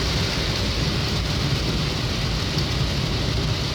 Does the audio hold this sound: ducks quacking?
no